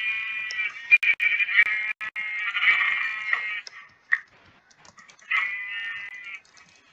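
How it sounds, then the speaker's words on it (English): Sheep bleat in the video game Minecraft. Several clear, wavering bleats come close and fairly loud, some overlapping in quick succession, with short pauses and faint clicks between them. "Oh wait, there are sheep."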